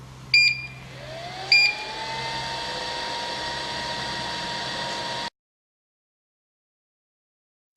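A 3D vacuum heat press machine set to 200 degrees starts up with two sharp beeps, then a steady hissing hum with a rising tone runs for several seconds before cutting off to silence.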